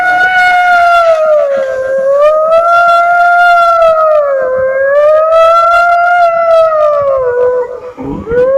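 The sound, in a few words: boy imitating a police car siren with his voice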